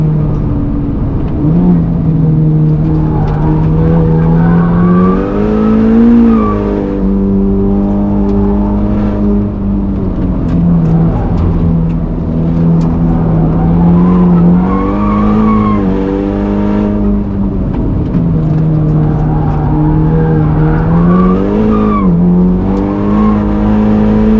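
Race car engine on a Nürburgring lap, a loud, steady drone rising and falling in pitch through gear changes and throttle shifts, with faint tyre noise underneath and no talking.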